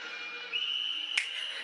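A high, sustained whistle tone rises out of Guns N' Roses' "Paradise City" playing through a speaker, holding steady for about a second before a sharp burst, heard faintly.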